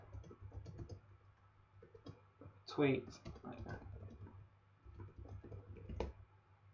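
Soft, close clicking of computer keyboard keys as a tweet is typed, an irregular run of light taps at low level.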